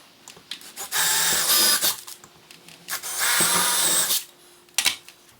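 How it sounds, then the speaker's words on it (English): Cordless power drill boring a 3/16 pilot hole for mounting a Chamberlain RJ020 wall-mount garage door opener, two loud sustained whirring runs of about a second each, close by, separated by clicks and handling noise. "I drilled a 3/16 pilot hole"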